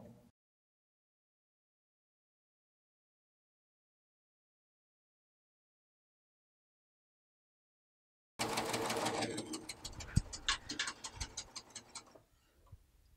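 A sewing machine runs a chain stitch seam at 3/8 inch seam allowance, starting after a long stretch of silence and chattering steadily and loudly for about four seconds before slowing and stopping.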